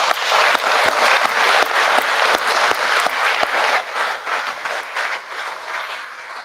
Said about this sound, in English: Give me a little round of applause.